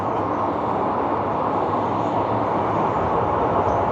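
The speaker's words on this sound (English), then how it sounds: "There's cane train." A steady, loud rumbling roar of a passing sugar cane train, with continuous broadband rolling noise that holds constant throughout and no voices.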